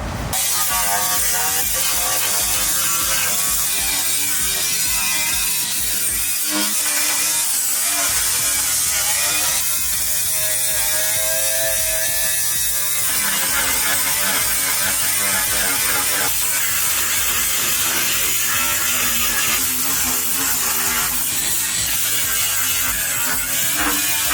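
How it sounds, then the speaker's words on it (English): Metal being power-sanded on a Ford F100 truck cab during a rat rod build: a loud, continuous abrasive whirring and grinding that holds steady for the whole stretch, with no talking. "I'm going to sand everywhere I can that I think I might weld to on this F100 cab."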